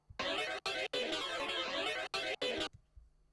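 A heavily processed saxophone with a swirling phaser effect plays short sustained phrases separated by brief pauses, sounding harsh and unnatural.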